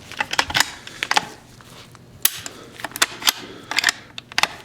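Remington .22 bolt-action, magazine-fed rifle handled up close, its safety and action giving a quick series of sharp, dry metallic clicks in uneven bursts against a quiet room.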